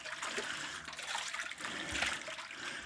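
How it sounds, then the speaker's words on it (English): Water is poured into a can of stout malt extract to thin it for brewing, making a faint, close, continuous trickling splash for a few seconds with no talk. "add a bit of water to this to thin it out a little bit so it's easier to pour"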